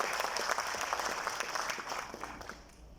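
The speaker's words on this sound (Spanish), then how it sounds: "que le vamos a dar un aplauso, que lo escuche del cielo" An audience at a formal tribute ceremony claps steadily for a few seconds, a soft, fairly distant wash of applause that fades toward the end.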